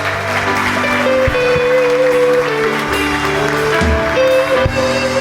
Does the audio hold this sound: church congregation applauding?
yes